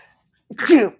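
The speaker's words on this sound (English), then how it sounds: "boy, I'm going to sneeze again" A single sharp sneeze bursts out close to the mic after a second of near silence, with a brief intake and an explosive, breathy release.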